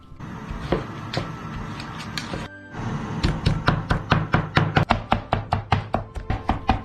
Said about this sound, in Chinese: 一会儿把它剁一下